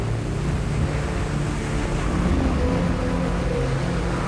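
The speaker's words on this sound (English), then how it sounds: "Hurricane winds act on the sea's surface over great distances, and for a long time to produce these gigantic waves." Large ocean waves driven by hurricane winds make a continuous, loud, dense roar with wind buffeting throughout and no distinct breaks.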